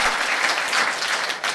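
A seminar audience claps loudly and continuously in a dense, sustained burst of applause filling the hall.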